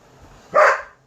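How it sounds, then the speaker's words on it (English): A single sharp bark from a puppy, short and fairly close, rising out of a quiet room. "Excuse the puppy noise here."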